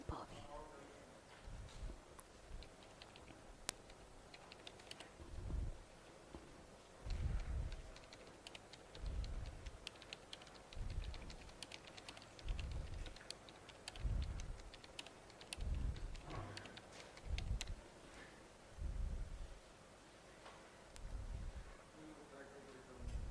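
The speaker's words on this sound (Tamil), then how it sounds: "நான் உட்காந்துட்டு டைப் பண்ணுறேன்." Someone types on a computer keyboard in soft, irregular clusters of keystrokes with short pauses between them. The typing is faint and continues throughout, with quiet voices in the background.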